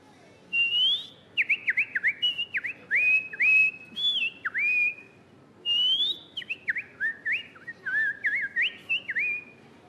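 A person whistles an imitation of a shama's song: clear, close, warbling phrases with rising and falling slides, repeated in bursts with short pauses over about ten seconds, no talking.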